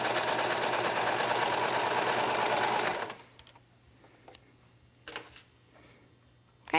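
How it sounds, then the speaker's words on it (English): Sewing machine stitching a 3/8 inch shoulder seam on a knit racerback top, running loud and steady for about three seconds, then stopping, leaving a low hum and a few faint handling clicks. "now we're going to stitch the shoulder seam"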